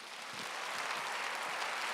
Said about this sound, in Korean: 우리 하나님께 박수시다.